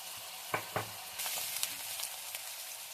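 Onions and curry leaves frying in a pan with salt for a bitter gourd and tomato curry, a soft steady sizzle with a few close clinks of stirring, no voices.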